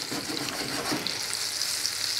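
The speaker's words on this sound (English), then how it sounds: "Butter's sizzling. I'm going to put the onions in for a couple of seconds." Steady frying sizzle of onions in butter, a continuous crackling hiss with faint stirring, close and moderately quiet, no voices.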